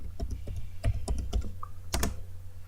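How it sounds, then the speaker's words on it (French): Someone types on a computer keyboard, a close, fairly quiet run of irregular individual key clicks with short pauses between bursts. "vous lâchez votre souris et vous tapez sur le clavier"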